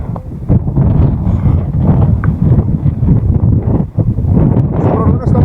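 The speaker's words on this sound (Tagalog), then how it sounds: "Sobrang lakas naman kasi ng hangin eh." Strong gusts of wind batter the microphone near a rock formation outdoors, a loud continuous low rumble with buffeting swells that barely lets up, with voices talking and exclaiming underneath.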